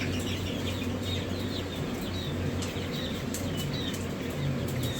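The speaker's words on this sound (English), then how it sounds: "Little Sherma, smallest chicken in the world." Small chick-sized chickens in a hatchery give dense, overlapping high chirps and soft clucks throughout, with a steady low hum of hatchery machinery underneath.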